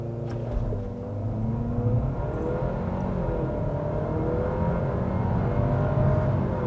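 A 2022 Audi A3 sedan, the lower-powered model, accelerates from inside the cabin at elevation, its engine droning steadily with rising harmonics over continuous road noise, with no talk.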